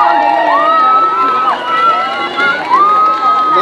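Supporters at a San Bernardo, Nariño pageant for a contestant, a loud close crowd cheering with high shouting voices and drawn-out calls over one another.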